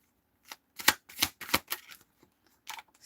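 Tarot cards shuffled by hand, a burst of quick riffling and flicking strokes in an uneven rhythm, close and crisp against silence.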